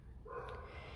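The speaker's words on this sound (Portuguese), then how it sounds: "Peço desculpa pelo latido do cachorro," A dog barks somewhere off to the side during a crochet lesson, giving a short, moderately faint bark or yip over a quiet indoor room.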